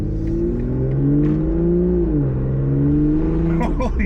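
A BMW M340i with a stage 2 tune in Sport Plus mode accelerates hard, its engine note climbing steadily, dipping briefly at a shift, then climbing again, heard loud and close from inside the car.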